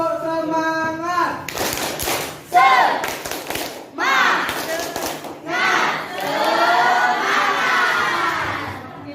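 Schoolchildren in an Indonesian classroom perform the rhythmic 'tepuk semangat' spirit clap, bursts of group clapping alternating with chanted shouts in a loud, lively pattern, with a teacher's voice at the start.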